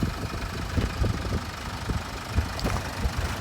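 A 2012 Renault Koleos engine idles steadily up close, giving a low, even, slightly knocking rumble with no voices over it.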